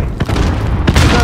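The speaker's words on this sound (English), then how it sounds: "Grenade launcher! Look at that, baby!" Grenade launcher explosion in Call of Duty, two loud booming blasts in quick succession with dense rumbling gunfire-like noise throughout, up close and loud.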